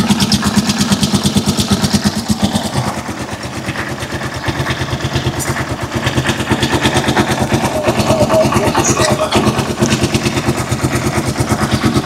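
A Rusi Chariot 175 motorcycle engine idles loudly nearby, a fast, steady mechanical putter with a rattling chug that keeps an even rhythm throughout.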